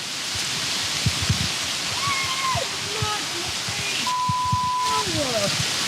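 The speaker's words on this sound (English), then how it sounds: "Can you hear the rain?" Steady rain hisses down over a cinnamon field in Sri Lanka, with bursts of speech and rustling over it.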